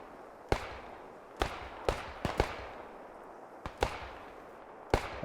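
Mortar shells burst one after another in a World War II platoon battle video game, a string of sharp, mid-distance booms at irregular intervals, some in quick pairs, over a low rumbling background with no talk.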